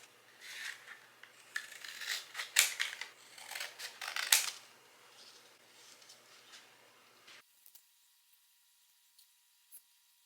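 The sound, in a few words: scissors cutting up a Kodak film box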